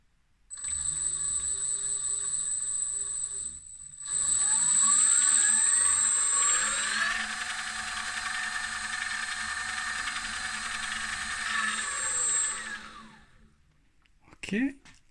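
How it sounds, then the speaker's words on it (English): A mini lathe driven by a brushless motor spins up, a bright high whine climbing then holding steady at close range, settling briefly before winding down near the end. "Let's start the motor."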